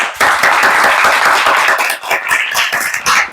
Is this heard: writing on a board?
no